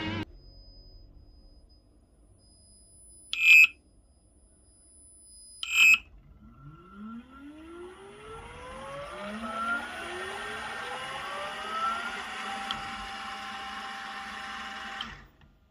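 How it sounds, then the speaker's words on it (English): Two short electronic beeps precede Newbee gear drive motors whining up in pitch during a motor detection test on a desk, a rising layered electric hum that holds steady for several seconds, then cuts off. "let's listen how the Newbee gear drives sound like when you do the motor detection on the desk"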